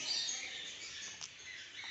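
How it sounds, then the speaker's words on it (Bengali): Faint high chirps and twittering from several birds, including parrots, in an aviary over a steady hiss, with a few brief sharper calls standing out. "দেখেন কত রকমের পাখি আছে এখানে"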